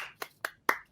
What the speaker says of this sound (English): Are you applauding the fact that Chris never gets a round of applause?